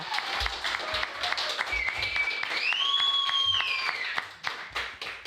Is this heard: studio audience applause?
yes